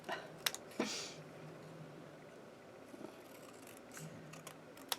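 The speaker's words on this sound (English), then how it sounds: "And then we're going to bring in our scissors here." Scissors snipping card paper at a craft table, a few quick crisp cuts and clicks, faint and close, with no talk.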